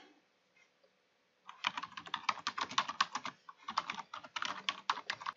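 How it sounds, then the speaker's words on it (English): Fast typing on a computer keyboard while writing a comment in Python code, rapid soft clicking keystrokes in steady bursts with a short pause, close and fairly quiet, no talk. "So I'm just gonna start typing the comment."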